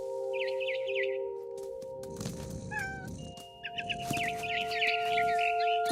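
Quick repeated chirps from a barn swallow in What Remains of Edith Finch, bursts of high twittering at the start and end over sustained background music, with a few scuffs and thumps between them.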